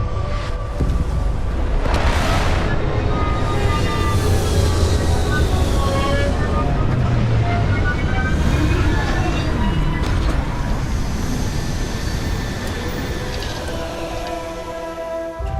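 Spaceship landing sequence in Starfield, a loud continuous engine roar with deep rumble and rising whining tones, swelling and shifting for about fifteen seconds before easing slightly, with occasional voices over the noise.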